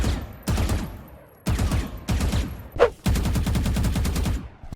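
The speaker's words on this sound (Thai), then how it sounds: "อันนี้ก็เสียงยิงในวาโลนะครับ" Vandal rifle gunfire in a Valorant-style Roblox shooter, several loud rapid automatic bursts separated by short pauses, ending with one long sustained stream of shots.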